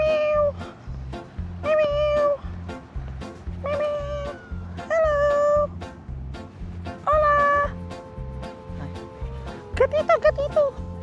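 A cat in Peru meows repeatedly, several drawn-out, rising cries close by, one after another over a steady background rumble.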